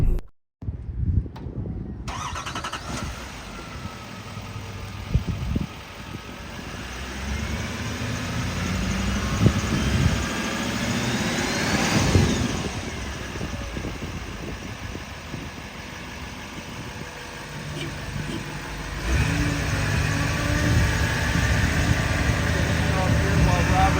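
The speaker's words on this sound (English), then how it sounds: "So I'm going to start it up and show you how this thing does." A 2020 Chevy 6500 ETI bucket truck engine cranking and catching after a brief silence, then settling into a steady diesel idle that runs on, with someone talking over it.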